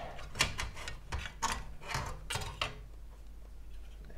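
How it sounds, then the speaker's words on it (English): A Mac SE drive carriage slides out of the compact Macintosh chassis with a series of close, sharp mechanical clicks and scrapes, then quiets toward the end. "You can just pull out the drive carriage."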